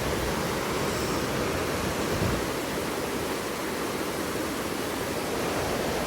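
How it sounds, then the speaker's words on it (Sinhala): A strong torrent of water rushes through dense forest on an off-season hike up a mountain trail, a loud continuous roar that fills the whole clip with no break and no talking. "මේකට දැස්සොත් අනිවාර්යෙන් ගහගෙන යන ඒ තරම් වතුර පාරක් තියෙනවා"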